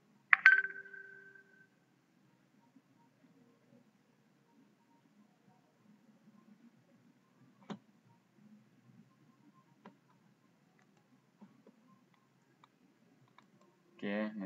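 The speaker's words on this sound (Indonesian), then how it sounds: "saya klik di sini kembali lagi" Sparse, faint single clicks from a computer mouse arrive at irregular intervals in a quiet room, with a person talking briefly at the start and again at the end.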